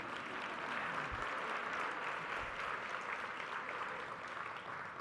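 Applause from a banquet audience at a gala, a continuous even wash of clapping heard from some distance with a couple of low thumps.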